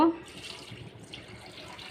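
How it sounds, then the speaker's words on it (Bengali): Water poured into a pot on a gas stove to boil liver for a curry, a short splashing pour that starts abruptly and keeps running briefly. "তো এখন পানি দিয়ে দিব।"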